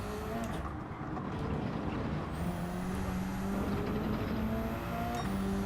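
A Subaru BRZ drives in the Gran Turismo 7 video game, its engine droning continuously and loudly, pitch rising and falling through gear changes with a brief dip in revs early on.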